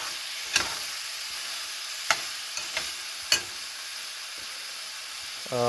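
Chicken with an onion and tomato mix for butter chicken simmers on medium heat, a soft even sizzle punctuated by a few sharp spoon scrapes against the pan, with a voice beginning right at the end.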